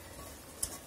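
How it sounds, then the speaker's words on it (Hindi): Moong dal being mixed in a pan gives a soft, continuous frying hiss, with a single light tap of a spoon against the metal. "अभी हम ये मूंग को इसमें डालेंगे और 6-8 मिनट्स तक इसको अच्छे से मिक्स करके रखेंगे"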